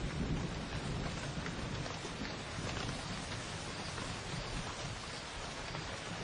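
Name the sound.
rain and thunder in Botswana during winter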